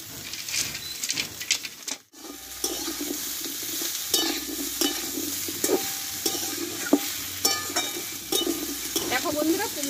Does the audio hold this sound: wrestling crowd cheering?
no